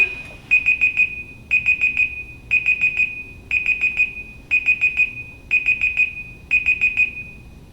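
A timer alarm goes off in a steady pattern of rapid four-beep bursts repeating about once a second, loud and close, alone with no talk.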